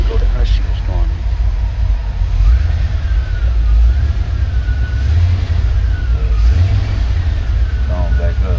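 A 1964 car engine idles with a loud, steady low rumble that holds evenly throughout, with people talking over it now and then.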